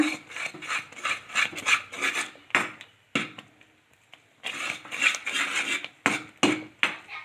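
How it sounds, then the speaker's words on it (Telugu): Mysore pak gram flour mixture being stirred in a pan: repeated rasping, scraping strokes of a utensil against the metal, close and fairly loud, in bursts separated by short pauses, with no talking. "అడగట్టుకోకుండా తిప్పుకుంటూ ఉండాలి."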